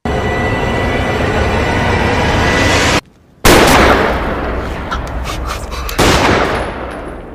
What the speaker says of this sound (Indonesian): Yun Gap menembak Chang Ho saat Jerry menjadi saksi pembunuhan yang mengejutkan